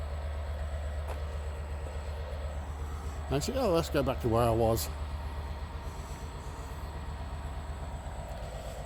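GBRf Class 66 diesel locomotive 66724 'Drax Power Station' powering up to depart with train 4O19. A steady low diesel throb runs throughout, with a short burst of tonal sound midway and a person talking over it.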